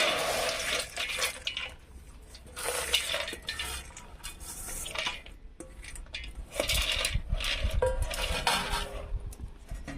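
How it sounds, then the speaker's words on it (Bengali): Soaked lentils are drained on a perforated plate, giving quiet, irregular trickling and dripping water with light clinks and scrapes of metal kitchenware close by. "এইভাবে ডালগুলো আমি জল ঝরিয়ে নিয়েছি খুব সুন্দর করে।"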